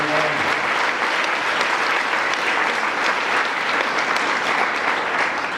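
A gala-evening audience applauds steadily and loudly, a thick, sustained wash of many hands clapping with no voices standing out.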